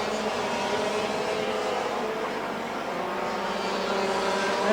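Junior international racing karts at the 1988 Castrol Kart GP drone together in a steady, high buzzing wash of small two-stroke engines, evenly loud and somewhat distant throughout with no talk.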